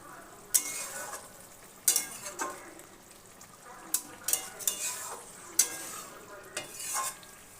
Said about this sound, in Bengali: মাছগুলো দিয়ে দিলাম, দিয়ে ভালো করে নেড়ে নিলাম।